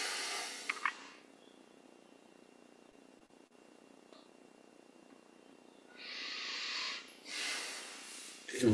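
A long, soft breath exhaled during a guided yoga meditation, a breathy hiss that swells and fades over a couple of seconds, close and moderately quiet, with a faint earlier breath and quiet room tone in between.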